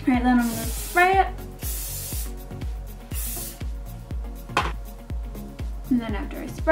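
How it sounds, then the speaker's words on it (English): Several short hissing bursts of hairspray being sprayed, close by, repeating at irregular intervals over steady background music. "then I'm gonna spray it."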